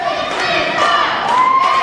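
A wrestling event crowd roars and cheers as a match begins, a dense wash of many voices with shouts and whistles rising over it, heard from within the audience.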